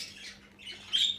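Pet cockatiels and lovebirds in an aviary in Turkey give short squawks and chirps, fairly close and moderately loud, with a brighter burst near the end.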